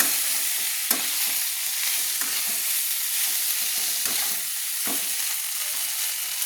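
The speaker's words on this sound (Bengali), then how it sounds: "দিয়ে আবারও ভালো করে আমি নেড়ে নিচ্ছি, কচুটাকে নেড়ে নিচ্ছি, কচু চিংড়ি করার জন্য আমি ভালো করে নেড়ে নিচ্ছি।" Taro with turmeric is stirred in a pan over a soft, continuous sizzle, the spoon giving occasional sharp scrapes and knocks against the pan; no talking.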